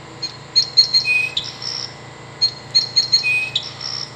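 A Wild Republic Audubon plush song sparrow plays its recorded song twice: bright, high, varied notes and trills in two similar phrases separated by a short pause, close and clear.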